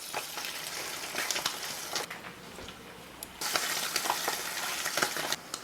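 Slices of Spam fry in a pan with a steady, close sizzle, briefly dipping quieter around the flip before crackling back up loudly.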